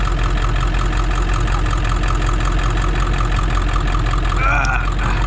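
Ford F-250 pickup truck idling after a cold start, a steady loud low rumble with faint knocking running throughout, close by, with brief sounds of movement near the end.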